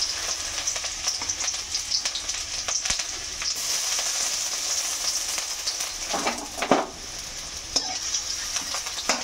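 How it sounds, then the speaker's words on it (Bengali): Chopped onion sizzles steadily in hot oil in a pan while a spatula stirs it, with scraping strokes growing busier and louder midway; no one speaks. "তেলের মধ্যে পেঁয়াজটা দিয়ে একটু নেড়ে চেড়ে নিয়ে"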